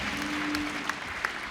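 Audience applause at a formal public debate on British public schools, a steady wash of clapping from a large crowd, loud and sustained throughout with a few sharper claps standing out.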